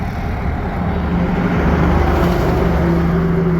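Traffic on a Bangladeshi highway near Mirer Bazar in Tongi, a loud continuous engine roar and tire rumble from vehicles passing close by, with no talk.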